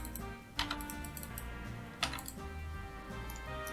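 Quick bursts of clicking keystrokes on a computer keyboard, a few short flurries spaced over a few seconds at close range against a quiet background hum.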